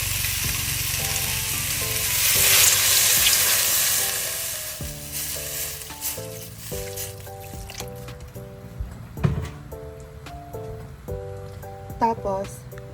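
Sinigang na tilapia broth coming to a boil in a pot, a steady bubbling sizzle that swells early then settles into a softer simmer beneath tonal background music and occasional light clinks.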